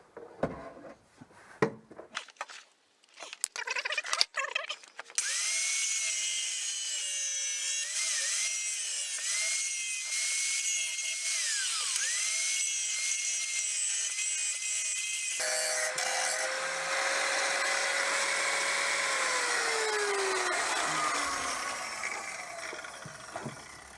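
A power cutting tool trims excess metal from a Peugeot 309 diesel fuel tank. A few scattered knocks come first, then a sustained whining cut with shifting pitch, which changes tone partway through and fades at the end.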